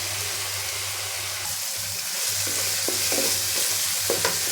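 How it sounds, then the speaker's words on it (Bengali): Steady loud sizzling of spices frying in hot oil, with occasional stirring clicks and scrapes near the end. "মশলায় তেল ছেড়ে দিয়েছে, মশলা ভাজা হয়ে গেছে।"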